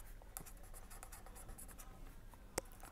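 Handwriting on paper, soft continuous scratching strokes with a few sharper taps, quiet and close, with no speech.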